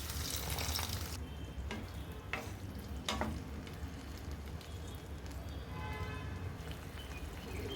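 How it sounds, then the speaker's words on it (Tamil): Tamarind water poured into a hot frying pan of puli kuzhambu with drumstick, brinjal and jackfruit seeds, giving a loud hissing sizzle at first that settles into steady bubbling with a few soft stirring knocks. "இதில் புளி தண்ணி சேர்த்துக்கிறேங்க."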